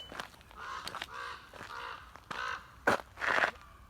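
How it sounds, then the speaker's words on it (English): A crow caws repeatedly outdoors, a series of harsh, fairly close calls in an uneven rhythm, with a louder pair of caws near the end. "I believe that is a crow."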